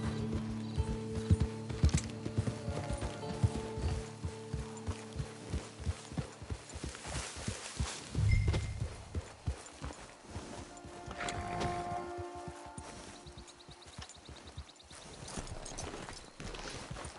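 Horse hooves clip-clop in a video game, a steady run of sharp, evenly spaced hoofbeats that slows and stops, then resumes softer among other game sounds and faint mechanical noises.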